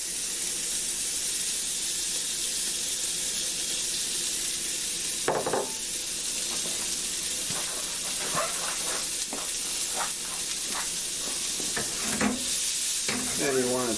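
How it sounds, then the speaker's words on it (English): Chopped bell peppers fry in a hot pan with a continuous hiss and sizzle, broken by scattered clacks and scrapes from tossing and stirring, louder toward the end. "fry your chopped pepper for a few minutes until it's as soft as you want it"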